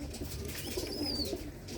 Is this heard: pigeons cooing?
yes